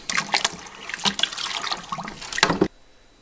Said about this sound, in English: Just going to stir that and dissolve it in.